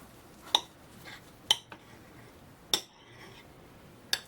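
A baked mushroom stuffed with meat and cheese is cut on a plate, giving four separate sharp clicks of a knife and fork against the dish spread over a few seconds, with quiet between them.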